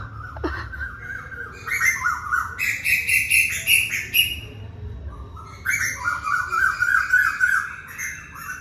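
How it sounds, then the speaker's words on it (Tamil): Two groups of birds calling over each other outdoors in the morning, loud squawking and chirping bursts in alternating rounds with short quieter gaps, no talk. "2 செட் ஆஃப் பேர்ட்ஸ் வந்து போட்டி போட்டுட்டு சத்தம் போடுற மாதிரி இருக்குது"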